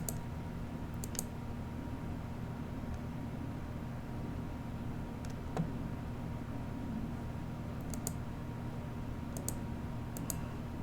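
Sharp, sparse plastic key clicks from a Famicom Family BASIC keyboard, scattered singly and in quick pairs over a steady low hum, fairly faint and close.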